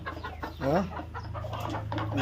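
Country chickens at a feeder and drinker make soft clucks close by, a few short calls over a low steady background hum.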